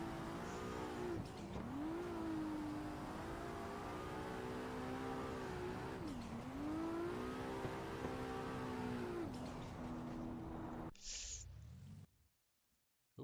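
Drifting car in a racing video game, engine held near steady high revs with sweeping pitch dips as it slides and regains angle, loud and continuous, then cutting out near the end.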